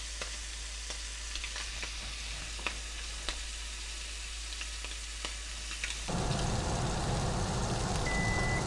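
Shrimp fry in a hot pan, a quiet crackle with scattered pops that suddenly swells into a loud, dense sizzle partway through and stays steady.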